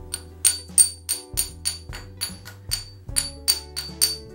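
A drill-bit grinding stone is tapped repeatedly to check for cracks, giving about a dozen sharp, ringing knocks in a steady rhythm, close and clear with no talk.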